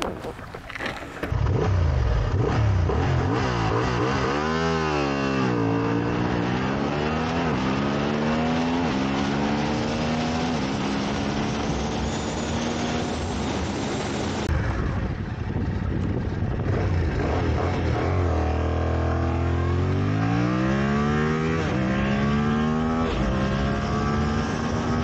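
A Honda Hornet CB750 and a Yamaha parallel-twin motorcycle accelerate hard from a standstill to 100 mph, the loud engine note climbing in pitch through repeated gear changes over about twenty seconds, with no talk.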